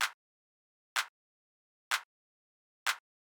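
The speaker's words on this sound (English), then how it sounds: "We should have this really short and tight clap" Four evenly spaced hits of a short, tight clap sample for minimal house, each snappy and bright with a fast cutoff and clean silence between.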